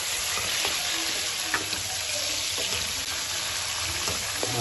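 Chopped tomatoes frying in a boneless karahi give a steady close sizzle, with a few soft stirring scrapes breaking through now and then; no one speaks.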